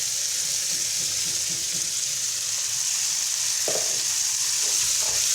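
Soaked rice, pre-soaked in lemon juice and salt, sizzles and crackles steadily in a hot pan while being sautéed for chickpea rice pilaf, with occasional stirring scrapes and no talk.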